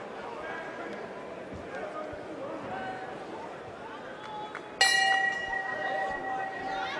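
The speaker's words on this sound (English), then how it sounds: "the opening bell sounds in the 60-kilogram lightweight contest" Opening bell of a 60-kilogram lightweight boxing bout rings out sharply after a stretch of arena crowd murmur, its clear tone lingering and fading over the noise.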